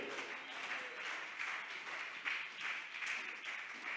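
A church congregation applauding loudly during a sermon, a sustained wash of clapping with scattered cheers throughout, heard from a distance.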